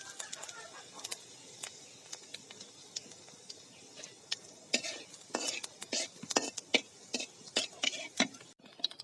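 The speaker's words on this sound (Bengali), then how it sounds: "কড়াইতে তেল দেওয়া হয়েছে আর দিয়ে দিব কয়েকটা জিরা।" Cumin seeds frying in hot oil in a wok while being stirred, with a steady soft sizzle under repeated sharp scraping and clinking of a utensil against the pan, close and fairly quiet, with no talk.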